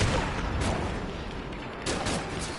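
Sniper fire in Batman Arkham City: loud, dense booming shots and blasts filling the short stretch, with a sharper crack near the end.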